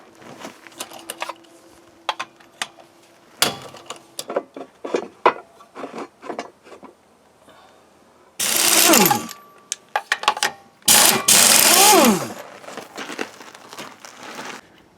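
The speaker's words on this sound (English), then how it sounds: "we're going to take the wheel off and get to that one" Wheel removal on the front of a 2003 Chevy 1500 4x4 truck: scattered metallic clinks and rattles of tools and parts, then two loud sustained bursts, likely a power impact tool, close by with no talk.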